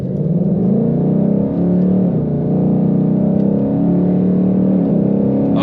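A 2022 Ford Mustang GT V8 with automatic transmission accelerates hard on the road, giving a loud, steady, deep engine roar that holds throughout without a break.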